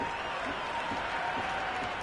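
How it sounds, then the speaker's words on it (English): A raucous crowd cheers and applauds continuously in a cricket video game, a steady dense wash of noise after a boundary shot. "The crowd are really getting quite raucous. It's going to be difficult to focus down in the middle with this amount of noise."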